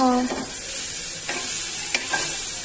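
Food frying in oil in a pan, a steady hiss of sizzling with a few brief scraping stirs of a spatula, close and moderate in level, without speech.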